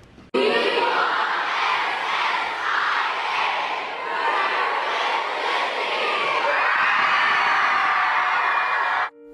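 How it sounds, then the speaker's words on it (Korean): A large crowd of supporters outside a legislature shouts and cheers continuously, loud massed voices rising and falling in waves with no break. "물론 수많은 지지자들은 함성으로 그를 후원했습니다"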